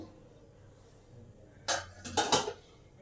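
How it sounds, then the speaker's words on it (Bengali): Metal lid lifted off a pan holding a banana and wheat-flour cake baking on a gas oven, a quiet hum giving way to a few sharp close clanks and scrapes of metal near the end. "ঢাকাটা খুলে দেখি কেকের অবস্থাটা কি আছে"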